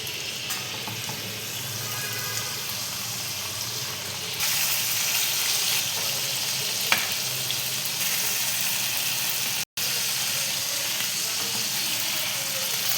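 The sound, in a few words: boal fish paturi in pumpkin leaves frying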